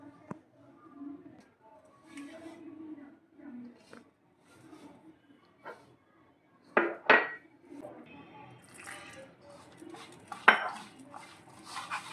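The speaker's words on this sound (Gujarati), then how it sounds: "હવે બધું મિક્સ કરીને લોટ બાંધી લેશું" Dough for muthiya dhokla mixed and kneaded by hand in a bowl, with oil added, giving soft irregular squishing and knocking, a few sharper clinks of utensil against the bowl, and quiet voices in the background.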